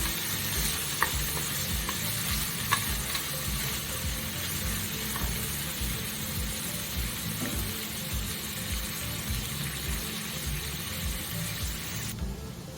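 Sliced onions sizzle steadily in hot oil in a pan, a dense continuous frying hiss with a couple of stirring clicks and scrapes, close and unbroken, with no one talking.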